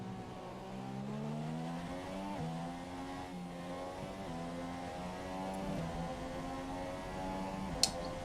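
Formula 1 car from the F1 2017 racing game lapping a track, its engine whining steadily and climbing through gears as it takes corners, loud and continuous with a brief click near the end.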